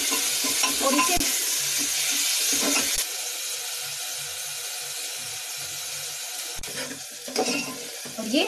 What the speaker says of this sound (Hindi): और ये हमारे प्याज भुनने लगे हैं, इसे हम थोड़ा सा ब्राउन होने तक और भुनेंगे।